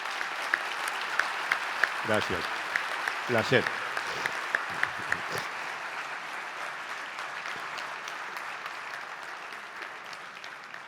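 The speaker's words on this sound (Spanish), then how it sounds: "Vamos a despedir a Eduardo con un fuerte aplauso." Audience applause sending off guest Eduardo at the end of a talk on resilience, survival and teamwork, a steady patter of clapping across the room under a voice speaking Spanish.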